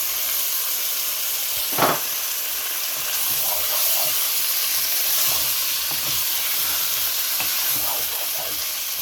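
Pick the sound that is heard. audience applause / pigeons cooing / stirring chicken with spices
stirring chicken with spices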